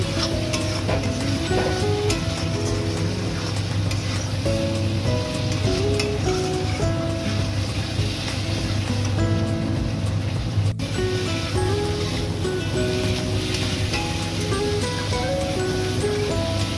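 Ghee spooned over shrimp cooking with yogurt and fenugreek sizzles in a steady, even hiss for the whole stretch, with a faint tonal background running beneath it.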